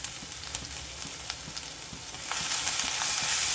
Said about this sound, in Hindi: उसमें डाल दिया है मैंने 2 टेबल स्पून तेल और उसमें हम डालेंगे ये अदरक, साथ ही में डालेंगे लहसुन